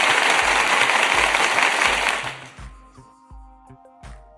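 Applause erupts loudly for about two seconds during a live trading session, then drops away abruptly, leaving quieter tonal sounds and faint taps.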